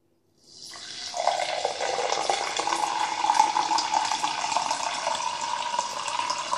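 Mineral water poured from a glass bottle resembling a champagne bottle, a steady splashing, gurgling stream that starts after a brief silence and runs continuously, close and fairly loud, with no talk.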